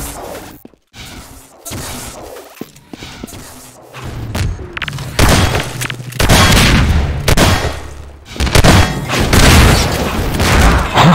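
Explosions and booming blasts from a rocket-launcher fight in Half-Life 2 Deathmatch, a competitive multiplayer shooter match, with several loud thuds and gunfire bursts piling up densely over the last seconds.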